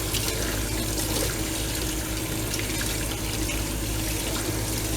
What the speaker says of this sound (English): Just kind of rinse it off real good.